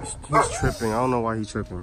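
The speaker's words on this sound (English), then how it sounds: "Sorry for my dog." A dog gives short yips and whimpering whines close by while someone talks over it in a garage where coilovers are being fitted to a 2016 Scion FR-S.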